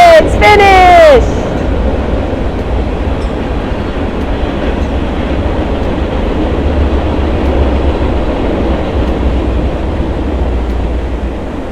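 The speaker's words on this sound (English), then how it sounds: "They have so many trains coming through here." A train rumbles past close by in a steady, continuous roar with rattling wheels, opening with a sharp horn blast.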